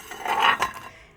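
Plates from a Golden Line tableware range with a rim stripe are handled in a shop's dishware section, giving a few close ceramic clinks and rattles over about a second.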